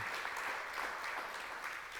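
Church congregation applauding during a Friday sermon, a continuous spread of many hands clapping at moderate, even volume, heard alone without speech.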